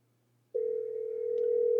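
After a dialed redial on a PBX phone system, a steady electronic ringback tone starts abruptly and holds continuously, loud and clean over a faint low hum.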